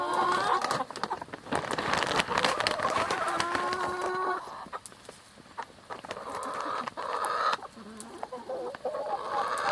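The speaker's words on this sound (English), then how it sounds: "you can probably hear it clicking, their electric fence that we move around" Backyard chickens in a movable enclosure cluck and chatter close by, with soft sharp ticks from a portable electric fence pulsing through the flock's calls.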